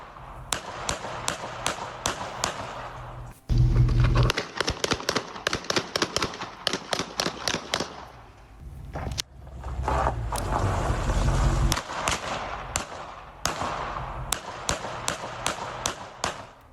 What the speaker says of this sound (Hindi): पहले आप सुनिए कैसे गोलियों की आवाज वहां गूंजी है।